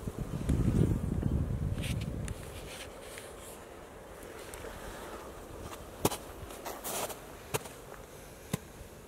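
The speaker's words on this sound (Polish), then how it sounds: "Pszczoły się obleciały. Jest to pierwszy oblot po zimie." Honey bees buzz loudly up close for about two seconds on their first cleansing flight after winter in February snow, then fade to a faint hum broken by scattered sharp ticks and taps.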